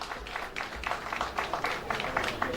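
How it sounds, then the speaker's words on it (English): An audience claps for a minister at an official gathering, a steady patter of many hands, fairly faint and even throughout with no voices on top. "The pals are clapping for the minister."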